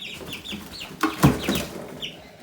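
Chickens cluck and murmur in a brooder box being readied for a move to a new coop, with a run of soft rhythmic clucks, then a louder cluster of calls and squawks close by.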